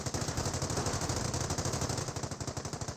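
Sustained machine gun fire rakes Panzer Grenadiers in the Company of Heroes video game, a rapid, unbroken stream of rattling shots over a dense battle din, loud and close throughout.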